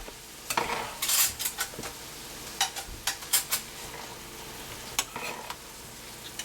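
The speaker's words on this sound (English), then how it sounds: "we're going to start mixing it up with the juices that we've got left in our pan" Noodles being stir-fried and tossed with leftover pan juices, giving soft sizzling with a series of sharp scrapes and clinks of a utensil against the pan, close and without talk.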